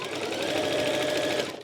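A sewing machine runs fast and close, stitching the first seam of a Cuddle fabric infinity scarf. The hum is steady and continuous, then stops abruptly at the end.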